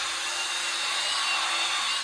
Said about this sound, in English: You get the brush, the drill brush, just takes the time in half. It agitates it, cleans it all out.